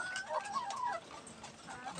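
Laying hens cluck in a small outdoor backyard pen, soft rising and falling calls close by over a quiet background.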